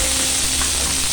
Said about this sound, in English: fry beans.